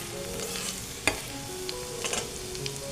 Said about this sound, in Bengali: আদা আর কাঁচা লঙ্কা ফোড়ন দিয়ে দিলাম